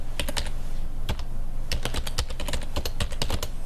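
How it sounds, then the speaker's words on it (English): Rapid typing on a computer keyboard by a newspaper publisher on deadline day at a local paper, with bursts of close, crisp key clicks separated by short pauses. "which means John Howell is behind his keyboard"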